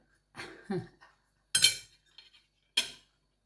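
Cutlery cutting into a fried egg on a plate of huevos rancheros, a few sharp metallic clinks and scrapes against the dish, close and distinct, separated by brief silences.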